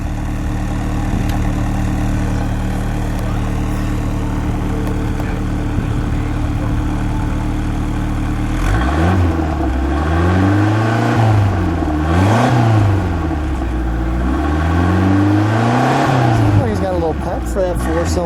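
A 1986 Chrysler LeBaron Town & Country convertible's 4-cylinder engine idles steadily up close, then revs repeatedly in rising and falling surges, with people talking over it.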